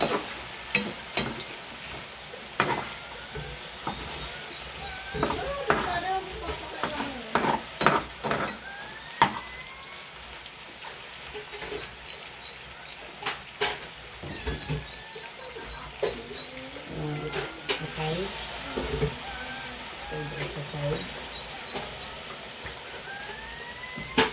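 Chicken sizzles in a pan for adobo while a utensil stirs and scrapes it, giving a continuous frying hiss broken by repeated clanks and scrapes, close and fairly quiet.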